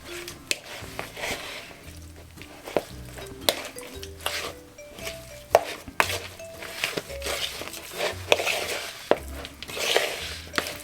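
A spoon clinks and scrapes against a bowl while mixing seasoning into beef for Jamaican brown stew, in repeated close stirring strokes with soft squishing between them.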